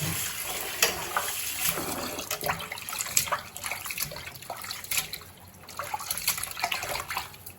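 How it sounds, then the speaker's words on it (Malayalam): Running water splashes and gurgles steadily as beef is washed by hand, with bursts of rinsing and handling noises, close by, no voices. "നമുക്ക് ബീഫ് നല്ല വൃത്തിയായിട്ട് കഴുകിയിടുക"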